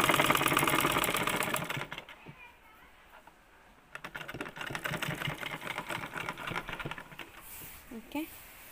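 A sewing machine stitches fabric for a dress in two rapid, even bursts of clattering needle strokes, separated by a short pause of quiet handling, heard up close at moderate volume.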